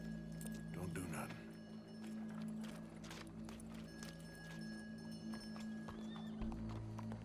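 A horse in Red Dead Redemption 2 clip-clops and whinnies close by against game ambience, with tonal background hum and a voice talking over part of it.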